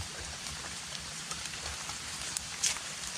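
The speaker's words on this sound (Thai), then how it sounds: "ฝน ลงเม็ด" Steady rain falling, a dense, even hiss of drops across the whole stretch with a few slightly louder patters near the end.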